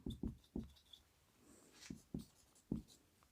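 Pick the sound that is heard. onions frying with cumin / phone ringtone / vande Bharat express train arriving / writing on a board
writing on a board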